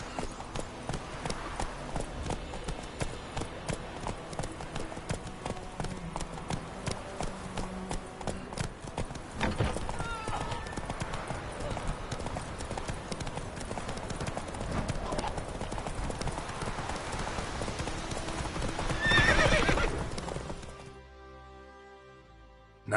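The horse Roach gallops in The Witcher 3, its hooves beating a fast, steady rhythm that is loud and close, with game ambience around it before fading out at the end.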